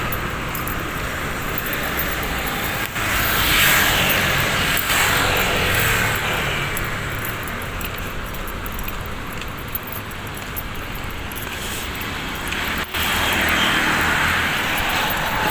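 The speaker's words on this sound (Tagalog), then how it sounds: "daming mga sasakyan dumadaan" Many vehicles pass along a busy town street in Bay, Laguna, Philippines, a steady close wash of traffic noise with occasional swells as individual vehicles go by, with no talk.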